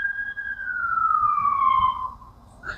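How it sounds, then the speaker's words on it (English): A siren wail sweeps steadily downward in pitch over about two seconds, moderately loud and clear, then fades; faint low rumble underneath and no talking. "there's about to be sirens"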